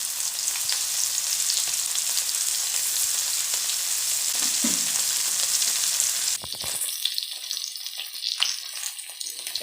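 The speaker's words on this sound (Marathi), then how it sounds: "कडकडीत तेलात मासं सोडायचं म्हणजे मासं व्यवस्थित भाजता." Saundale fish coated in semolina fried in very hot oil, a loud dense hiss and crackle that runs steadily, then abruptly thins to scattered pops and spits near the end, with no voices.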